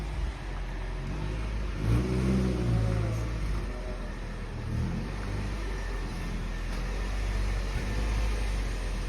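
A Saturn car's engine rumbles low as it backs up, with a brief rise in revs early on and then a steady idle-like drone, heard fairly close outdoors.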